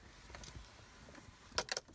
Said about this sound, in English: I'm going to put them in the ignition.